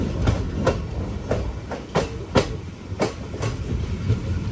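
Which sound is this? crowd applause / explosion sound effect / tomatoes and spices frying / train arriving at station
train arriving at station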